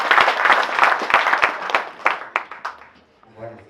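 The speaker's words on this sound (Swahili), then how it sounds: "Tupigie makofi." A church congregation at an ordination service applauds, dense clapping close by that fades out over a few seconds, with a voice speaking as it dies away.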